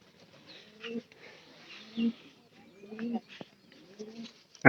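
A found pigeon kept at home coos softly in a few short, low, throaty phrases spaced about a second apart, close and fairly quiet against a near-silent background.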